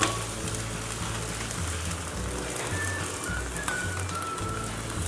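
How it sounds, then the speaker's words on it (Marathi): A fasting dosa roasts on a hot pan over a high flame, giving a steady, close sizzle that holds evenly throughout with no talking. "डोसा आपल्याला फुल गॅसवरतीच भाजायचा आहे।"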